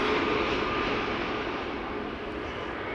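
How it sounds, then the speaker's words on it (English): An EasyJet Airbus A320 Neo on arrival at Amsterdam Schiphol roars past with a broad, steady jet-engine rumble that slowly fades, loud and close, with no voices. "EasyJet A320 Neo."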